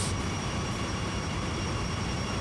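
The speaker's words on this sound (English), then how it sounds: "the engines are slowing down enough so that the train can start picking up speed again" Diesel freight locomotives grind slowly up the Sand Patch Grade hauling a grain train in Train Sim World 2, a steady dense engine rumble with broad noise, loud and continuous with no talk.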